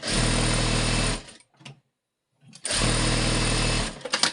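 An electric sewing machine stitches the hem of an A-line skirt in two steady motor-driven runs, loud and close, separated by a short pause with a faint handling sound in between.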